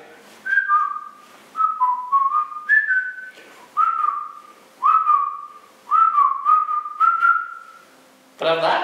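A person whistles a melody, clear close phrases of sliding notes in a bouncy rhythm separated by short pauses, ending with a brief noisy burst.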